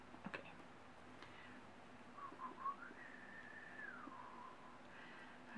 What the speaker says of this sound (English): Can't whistle worth the darn.